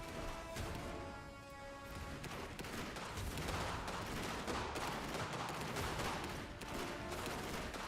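Rapid gunfire from a bunker in the strategy game Iron Harvest, a faint, dense clatter of shots and crashing impacts continuing throughout with no talk.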